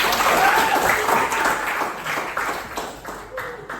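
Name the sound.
applause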